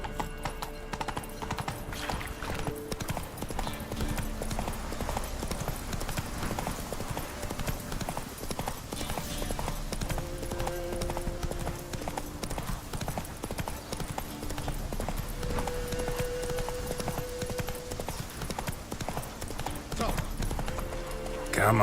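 The horse Roach in The Witcher 3 clip-clops in a steady galloping rhythm throughout, with occasional whinnies and spoken lines over the hooves.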